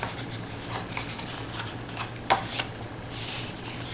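Dry paper rustles and creases softly as a long strip of cardstock is folded along its score lines, ending in one sharp crisp press, in a quiet room.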